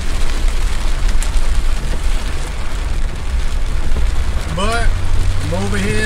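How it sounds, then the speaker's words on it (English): Heavy rain pours steadily on a street in Providence, Rhode Island, a dense continuous wash of noise with a voice speaking briefly near the end. "A lot of rain."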